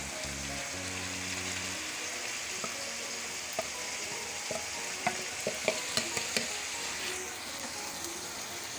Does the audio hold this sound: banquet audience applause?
no